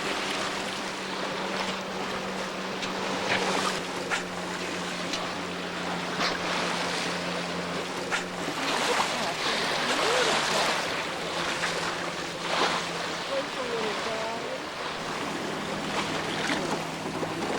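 A sailboat slides through ocean waves in the San Juan Islands, with steady wash and splashing against the hull, gusts of wind buffeting the microphone and a low hum underneath, no one talking.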